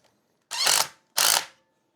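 Two separate ratcheting bursts, about half a second each, up close in a quiet room, as a nylon locking nut is tightened onto a 100mm M8 through bolt during an electric bike conversion.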